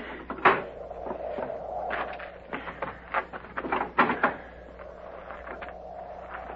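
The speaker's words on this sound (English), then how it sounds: "Get the door." Wooden door being opened in a 1950s Fort Laramie western radio drama: a series of close creaks, clicks and knocks over a soft rustling background, with no talk.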